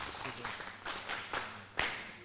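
Audience applause at a pandemic preparedness project inception meeting: several brief bursts of clapping from a crowd, fairly faint and uneven, rising in a few sharper spikes toward the end.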